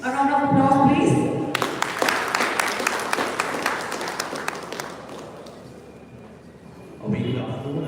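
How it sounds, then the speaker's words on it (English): Applause breaks out from an audience at an award ceremony, a dense crowd of clapping that swells, holds steady for several seconds, then fades as a voice speaks at the start and again at the end. "A round of applause, please."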